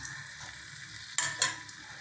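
Batter-soaked bread slices frying in a hot pan, a soft steady sizzle with two sharper crackling bursts as pieces hit the oil, close and fairly quiet with no talk.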